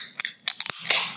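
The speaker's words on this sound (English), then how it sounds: "All right, well, let's crack this open." A beer can is cracked open up close: a few sharp metallic clicks and pops followed by a short burst of fizzy hiss as the gas escapes.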